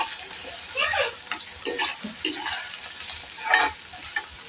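Onions frying in a pan for an egg fry, with a spatula stirring and scraping in short bursts over a soft, steady sizzle, fairly quiet and close.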